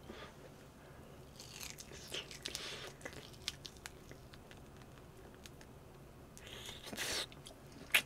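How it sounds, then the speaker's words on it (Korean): Close, quiet chewing of homemade braised seasoned pork ribs, with soft wet bites and a few crunchy, squishy bursts of mastication against a faint background. "좀 질기긴 한데 씹는 맛이 있네요."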